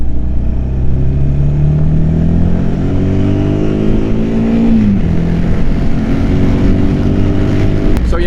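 A motorcycle cruises in top gear below 4,000 rpm, its loud steady engine drone rising in pitch then dipping, heard from the rider's seat under wind rush with no talk.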